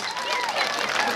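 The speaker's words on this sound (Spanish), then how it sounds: "Fuerte los aplausos, fuerte los aplausos." Guests at a wedding reception clap together in a brief, dense burst of applause with crowd noise, loud and close, while voices call out over it.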